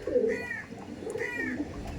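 Tournament racing pigeons at a Howrah loft in Kolkata coo softly in two short bursts a second or so apart, close by, over low background murmur.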